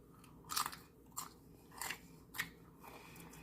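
Bites into a crunchy, cheese-topped baked meal, four or five sharp crisp crunches spaced about half a second apart, close and quiet, with no talking.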